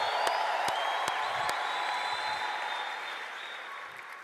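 A crowd applauds and cheers steadily, with a few sharp whoops and claps standing out from a dense wash of clapping. The noise stays fairly even and then fades a little toward the end, heard from within the audience.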